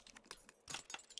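Metallic jangling and clicking of a lockpick in the Resident Evil 3 Remake video game, a few quick rattling bursts at close range with no speech.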